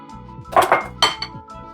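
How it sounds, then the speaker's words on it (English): Caster sugar, plain flour and vanilla being mixed in a bowl for a South African milk tart, giving a few close clinks and scrapes of utensil against the dish in two short bursts. "And I'm just going to mix this all together."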